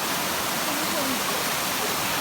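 Waterfall at Bulabog Bai Falls in the jungle, heard as a steady broadband rush of falling water that stays even throughout, with faint voices barely audible underneath.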